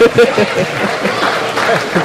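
A crowd at a talk about salmon breaks into applause and cheering, a dense close wash of clapping and voices with chuckles, while someone speaks over it.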